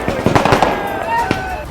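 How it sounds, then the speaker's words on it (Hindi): Celebratory fireworks crackle and pop outside a house in Rajasthan, with dense rapid bursts under a voice talking over them. "घर के बाहर आतिशबाजी शुरू हो गई"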